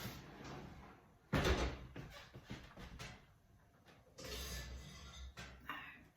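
An oven door being opened and closed while a sourdough loaf goes into a lidded enameled cast iron pot, with two heavier thuds among smaller clatters and knocks, close by with no talk.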